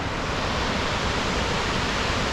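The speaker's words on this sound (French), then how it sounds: "je me retrouve dans la forêt à voir du coup la cascade en face de moi qui est gigantesque" A giant waterfall in a New Zealand forest, heard from far off as a dense, unbroken roar of rushing water, steady and even throughout with no voices.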